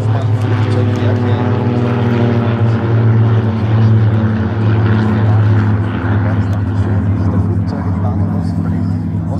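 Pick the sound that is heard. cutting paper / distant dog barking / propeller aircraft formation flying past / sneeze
propeller aircraft formation flying past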